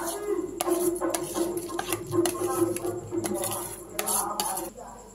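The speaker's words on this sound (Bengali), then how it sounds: "আমি দিয়ে দিচ্ছি চালটা আস্তে আস্তে" Ghee-coated sama rice poured slowly into a pot for payesh, with repeated clinks and scrapes of a metal spoon against the pot and rattling utensils, close and fairly quiet.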